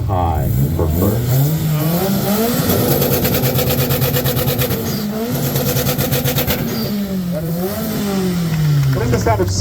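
A 600-plus horsepower car engine revving hard at a Boxerfest meet, loud and close, with a rising and falling throttle sweep and a sustained high-rev hold in the middle, over crowd chatter.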